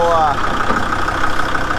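Tractor engine running at a steady idle while maneuvering a load, a low rumbling chug under a man's nearby speech, with a brief tonal whine at the start.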